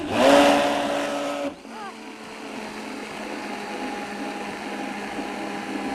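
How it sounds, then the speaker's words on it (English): A kitchen blender pureeing cauliflower cream runs loud for about a second and a half, a high grinding whir that cuts off abruptly, leaving a low steady background hum. "this is pretty hard on this blender"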